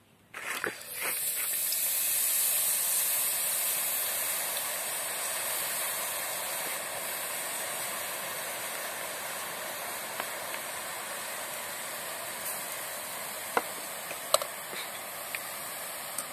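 Boondi batter dropping into hot oil makes a broad, steady hiss of frying that rises fast and then holds, with a few sharp clicks and taps of a slotted ladle near the end.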